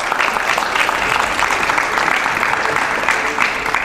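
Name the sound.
audience applause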